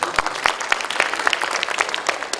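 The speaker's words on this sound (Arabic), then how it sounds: "أنا أصفق على الجمهور." Audience applause at a local nasheed festival, a dense steady patter of many hands clapping in a hall, fairly loud and continuous without a break.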